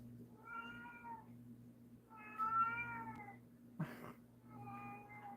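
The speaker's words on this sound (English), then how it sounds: "I need to take care of my cat here." A house cat meows several times in a row, drawn-out, slightly complaining calls with short pauses between them and a brief knock near the end, in a quiet room at night.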